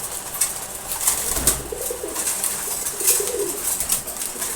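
Racing and fancy pigeons, including a pair of silver birds, coo at feeding time. Low, rolling coos repeat close by over a constant background of soft pecking and rustling.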